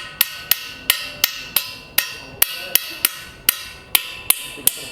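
Slag is knocked off a fresh weld in a manufacturing workshop practical with a hammer: about fourteen sharp, close metallic strikes in a steady, slightly uneven rhythm, each ringing briefly before the next.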